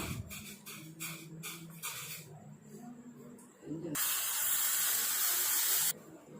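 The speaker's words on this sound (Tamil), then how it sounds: "இப்போ நல்லா நமக்கு கொதிக்கட்டும்" A steady hiss of a herbal decoction coming to a rolling boil on a stove starts partway through, loud and continuous for about two seconds, after a stretch of quieter clattering.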